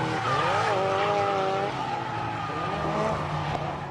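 A Mazda RX-7 drifting on a street and track course, its tires squealing in a long wavering howl over engine noise, loud and close, with the pitch sliding as the car swings through the corner.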